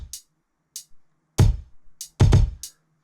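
Kick drums with a first layer of hi-hats in a slow hip hop beat: short crisp ticks land between booming low kicks, including a quick double kick, clean and upfront with no talking.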